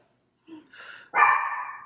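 A dog barks once, loud and close, with a softer yip just before, in a home during a mop test, with no talk over it.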